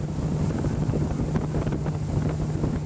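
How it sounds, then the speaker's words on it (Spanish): Motorboat engine pushing upriver on the Caquetá in the Amazon, a steady loud droning hum with a constant low tone and rough wind buffeting, continuous throughout. "para montarnos en una lancha río arriba por el Caquetá"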